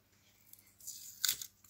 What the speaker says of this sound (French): Donc, j'enlève les scotch.